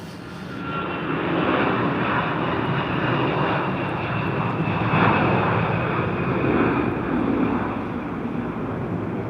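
A jet airliner takes off at Minneapolis–St. Paul airport in winter, its loud, sustained engine roar swelling and holding steady with a broad rushing drone, heard alone without voices.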